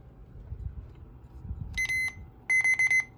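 Electronic alert beeps from a weather radio, a short harmonic tone followed by a run of four loud, evenly spaced beeps over a low background hum, with no talking.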